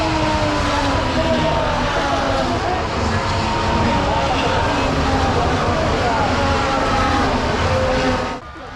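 Formula 1 cars launching from the grid at the start of the race at Suzuka Circuit, a dense wall of engine noise with rising tonal whines heard from the grandstands, loud and continuous before cutting off abruptly at the end.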